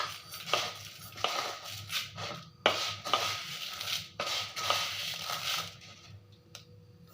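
Measured raw rice is poured into a container in several separate pours, each a short gritty rush with small clatters of grain and utensil against the vessel, close and fairly quiet, with no talking.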